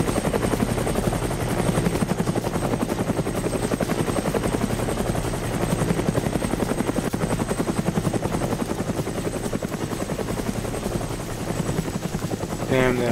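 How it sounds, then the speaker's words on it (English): A loud helicopter in a video game thrums continuously with rapid rotor chopping, steady and close throughout, and a voice briefly speaks over it. "Damn, the helicopter's so loud."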